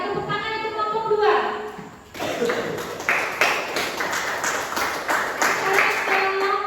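A chemistry classroom group claps for a student team; a teacher's voice speaks for about two seconds, then steady close, overlapping handclaps fill the rest of the room until the end.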